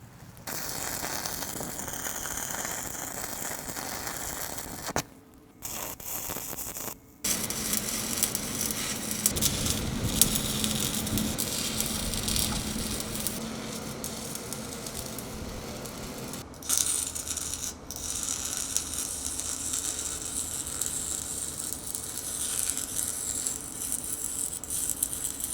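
Welding hangers onto an urban logging trailer: a steady crackling, sizzling arc runs for long stretches, broken by a few brief pauses where the weld stops and restarts, close and fairly loud with no talk.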